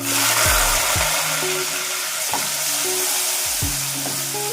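Masala being stirred into brinjal curry frying with curry leaves and browned onion, a loud constant sizzle with a few slow scraping strokes of a spoon across the pan.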